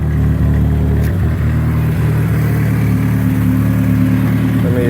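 A 1986 Dodge Omni GLHT with a rebuilt engine idles smoothly and loudly up close, a steady low engine drone with no talk over it.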